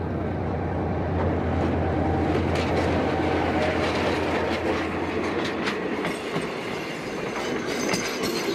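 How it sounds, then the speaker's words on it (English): A train rolls steadily along the tracks, a loud continuous rumble with rhythmic clatter of wheels and occasional metallic squeals. "this train shows no sign of stopping or even slowing"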